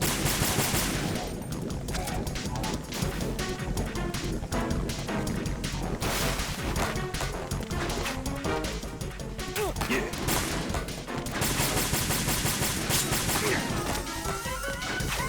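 Dense, continuous gunfire and impacts from the video game Metal Gear Solid 2, with rapid bursts like machine-gun fire and crashes filling the whole stretch, loud and close, with a voice faintly underneath.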